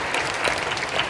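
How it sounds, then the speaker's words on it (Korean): A congregation at a Korean church prayer meeting marking the Korean War anniversary applauds, a thick wash of clapping heard at full, even intensity throughout a brief moment. "감사 박수 한번 드리겠습니다"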